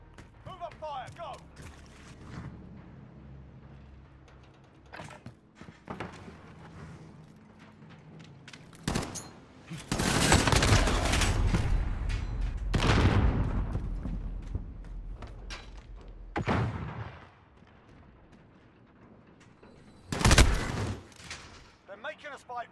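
Bursts of gunfire and explosive booms from a multiplayer shooter video game match, with scattered shots early, a dense loud barrage in the middle and a sharp blast near the end, voices speaking in between.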